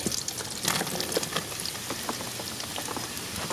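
Mushrooms drop into a hot pan with butter and olive oil in a wood-fired oven setting, giving a steady crackling sizzle with scattered popping spatters throughout, moderately loud and without talk.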